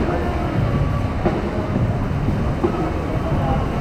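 A New York City subway train rumbles steadily on a rainy night, a loud, continuous low roar with rattling and clatter throughout, and faint voices buried beneath the noise.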